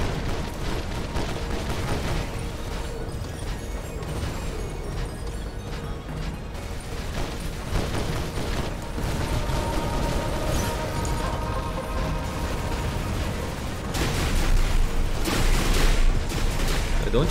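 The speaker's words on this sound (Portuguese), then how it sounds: "De onde está vindo esse tiro?" Gunfire and explosions during a War Robots match on PC, with dense rattling bursts and heavy impacts that build louder toward the end, and voices faintly beneath the battle noise.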